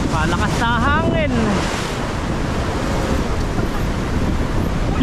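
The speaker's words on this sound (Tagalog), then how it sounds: "Malakas na hangin." Steady, heavy wind rushes across the microphone on open water while fishing from a boat, with crashing waves underneath and brief shouting voices early on.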